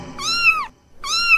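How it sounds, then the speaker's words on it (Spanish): A cat meows twice, two clear rising-and-falling meows separated by a short pause, close and loud with nothing else underneath. "Vamos a oír, el gatito le hace así."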